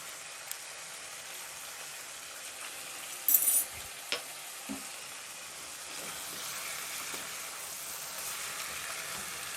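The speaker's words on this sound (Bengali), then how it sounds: "মাংসটা এইভাবে আমি 5 মিনিট ভেজে নিলাম তেলে" Pork sizzles steadily in hot oil in a pan, a soft, even frying hiss with a few faint clinks and stirring knocks near the start.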